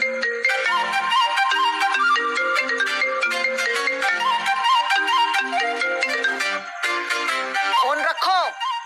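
A redialed phone plays a melodic electronic ringtone, a bright repeating tune ringing loud and close for several seconds with no voices over it.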